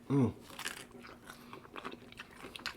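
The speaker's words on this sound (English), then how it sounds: "You heard that crunch?" Close-up crunchy chewing, a series of crisp bites and crunches after a brief vocal sound at the start.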